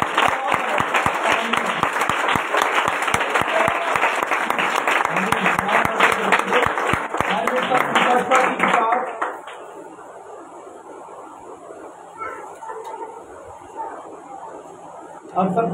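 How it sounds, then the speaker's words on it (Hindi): A church congregation in Pakistan claps together in a loud, rhythmic unison beat for about nine seconds, then the clapping stops and quieter room sound with scattered voices and murmur follows. "खुदा उनके जलाल के लिए ताली बजाएं"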